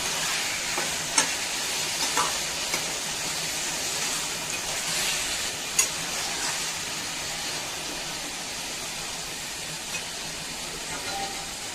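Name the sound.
potatoes with chili and salt frying in a pan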